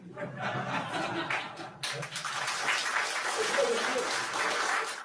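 Voices and chuckles open, then a crowd bursts into sustained applause after a speech. The clapping stays full and steady to the end.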